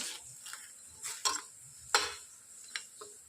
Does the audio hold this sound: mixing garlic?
yes